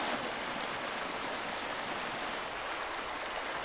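Running water from a spigot in Farming Simulator 22, a steady, even hiss of flowing water that holds constant throughout with no talking over it.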